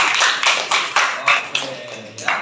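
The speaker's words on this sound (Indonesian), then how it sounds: "Kita kasih tepuk tangan dulu buat Fatir." A classroom of students claps in short uneven bursts, loud and close, roughly eight quick rounds of applause over a couple of seconds.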